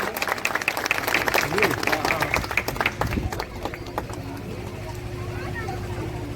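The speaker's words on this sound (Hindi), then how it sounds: "तालियां जोरदार बजाइए" A crowd applauds at a ceremony installing statues of Dr. B. R. Ambedkar and the Buddha in Deora market. Brisk clapping is strongest early, then thins out while an announcer speaks over it.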